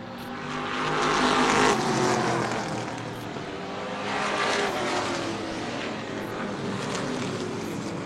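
Outlaw division stock cars at speed during a ten-lap heat race at a short oval track: a continuous, loud droning roar of several engines that swells and fades as the pack passes.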